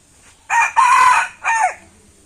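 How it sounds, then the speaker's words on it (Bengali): A native country rooster crows nearby, a loud drawn-out call followed by a shorter second crow, alone in a quiet outdoor setting. "দেশি মোরগ।"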